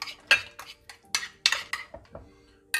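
A spoon stirs yogurt and olive oil in a bowl, making a string of irregular, close clinks and scrapes against the bowl, with short gaps and no talking.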